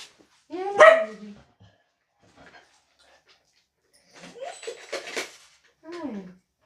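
A dog barks indoors in a few sharp bursts, one loud bark near the start and a cluster of yips and whines later, with pauses of near silence between them.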